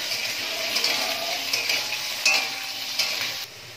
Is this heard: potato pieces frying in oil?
yes